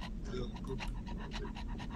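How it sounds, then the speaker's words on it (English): A person pants and gasps in quick, doglike breaths, a rapid rhythmic huffing that stays close and fairly loud, with some voices mixed in. "he gasped like a dog"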